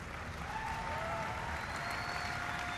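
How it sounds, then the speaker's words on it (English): An audience applauds steadily, a dense continuous patter of many hands clapping at a moderate distance, without pauses, before a speech on climate action. "Stand up and clap."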